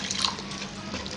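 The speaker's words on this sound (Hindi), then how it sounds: "यहाँ पे थोड़ा सा मैं इसमें पानी 1 कप ऐड कर दूँगी।" A cup of water is poured into beef liver cooking in oil in a pan, giving a steady close splashing, trickling pour with bright watery spatter that runs the whole brief moment, with no talking.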